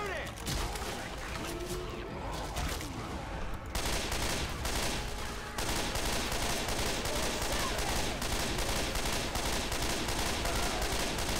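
Gunfire in the zombie shooter video game Left 4 Dead 2: dense, continuous volleys of shots from several weapons with brief gaps, loud and sustained throughout, amid chaotic game noise.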